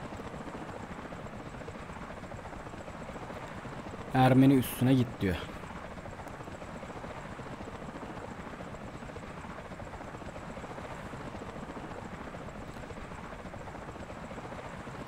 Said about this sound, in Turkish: Evet, helikopterimiz.